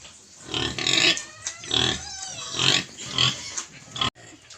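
A pig on a farm grunts and squeals loudly in repeated harsh bursts while being washed, with splashing water and close, rough snorting between cries.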